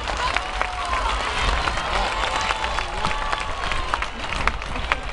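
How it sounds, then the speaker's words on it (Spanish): Audience applause and crowd noise fill an outdoor festival stage at Colombinas 2012 in Huelva, a steady, dense wash of clapping and cheering that holds evenly throughout. "Fuerte aplauso para ellos."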